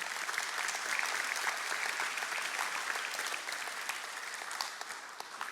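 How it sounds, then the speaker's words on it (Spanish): A church congregation claps for the Lord during a Spanish-language sermon, a full, continuous patter of many hands, fairly soft and distant in level, easing slightly toward the end. "dale un fuerte aplauso al Señor"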